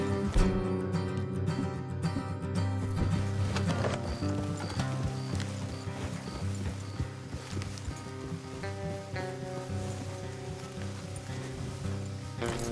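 Horses' hooves clip-clop at a steady walking rhythm in Red Dead Redemption II, heard under a dense bed of game music and ambient rustle.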